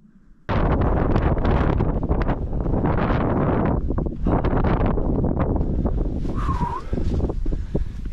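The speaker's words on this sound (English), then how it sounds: "It is breezy." Strong wind gusts buffet the microphone on the summit of Mount Mansfield in Vermont, a loud, rough roaring rush that rises and falls continuously.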